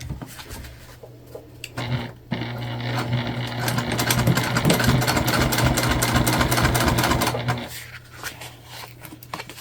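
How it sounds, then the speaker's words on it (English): A sewing machine topstitches waterproof canvas for a candy bag. Its motor whirs with rapid, rhythmic needle chatter for about five seconds, and quieter fabric handling comes before and after. "We're going to go ahead and top stitch."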